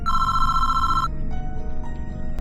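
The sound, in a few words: mobile phone ringing, sound effect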